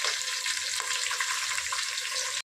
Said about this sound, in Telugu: మసాలాలు బిర్యానీ ఆకు అన్నీ వేసా కదా, అవి వేగుతూ ఉంటుంది. ఇక ఉల్లిపాయ కూడా వేగుతుంది.